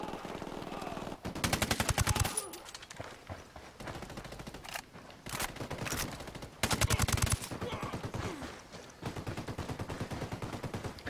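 Automatic gunfire in Ghost Recon Wildlands, with several loud sustained machine-gun bursts separated by quieter stretches of scattered shots and movement during a firefight.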